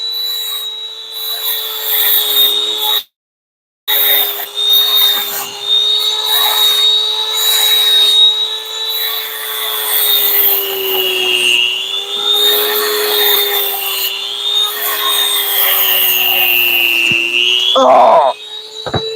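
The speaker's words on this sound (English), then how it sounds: "The sanding drum keeps trying to come off." A Dremel sanding drum grinds a custom knife with a steady, loud high-pitched whine that drops out for a moment and then resumes, with a scraping rasp and a brief rattle near the end.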